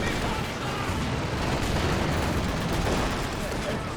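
A high explosive artillery barrage in the Company of Heroes 2 strategy game rumbles as a dense, continuous wall of blasts and gunfire, loud and steady throughout with no pause.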